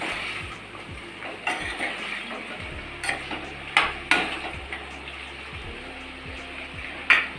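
Onions frying in oil for a chicken curry, a low, steady hiss broken by intermittent sharp knocks and scrapes of a utensil against the pot.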